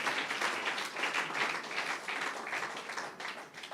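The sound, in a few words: congregation applauding for Jesus in church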